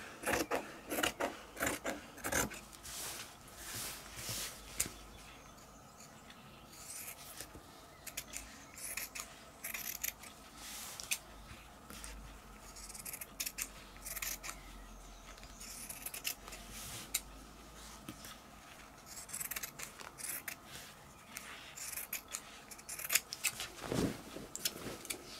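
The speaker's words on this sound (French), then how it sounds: "Je vais découper une bande sur toute la longueur." Scissors cut a long strip of jersey fabric for a sewn mask, making steady, close snipping and rasping strokes that repeat throughout with brief pauses.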